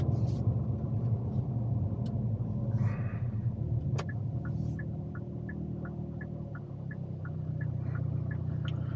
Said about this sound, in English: I'm gonna go ahead and hush up and let you hear the car